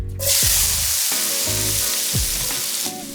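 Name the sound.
minced onion sizzling in hot guanciale grease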